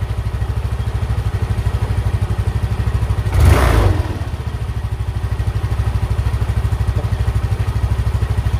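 A Mio i 125 fuel-injected scooter engine with an idle problem, after idle adjustment, putters at a steady, close idle. A single short rev swells about midway before settling back to the even idle.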